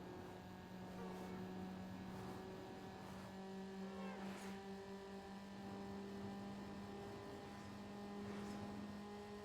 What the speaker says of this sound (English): I'm over revving my engine too much